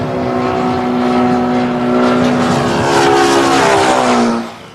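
An airplane roars past at close range with a steady engine drone. Its tone slides downward as it goes by, and the sound stays loud for several seconds before fading quickly at the end.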